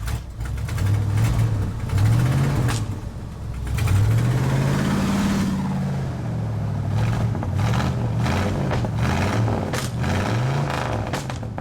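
Old 1978 Ford F250 camper special pickup idling with an exhaust leak after sitting ten years, a loud close rough engine with a puffing, ticking exhaust and a few revs rising and falling throughout.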